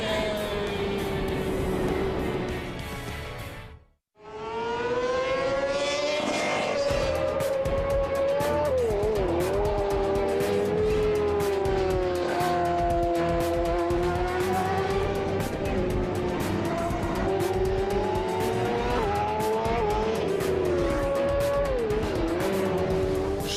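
A Yamaha R1 sport motorcycle races on a World Championship track, its loud, sustained, high-pitched engine howl rising and falling in pitch. The sound cuts out briefly near the start, then roars on continuously.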